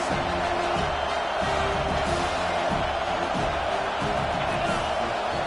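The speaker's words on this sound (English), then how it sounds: "Fourth down, and this crowd is making it miserable on this offense." A dense, steady roar from a football stadium crowd on fourth down, loud and unbroken, with no clear individual voices.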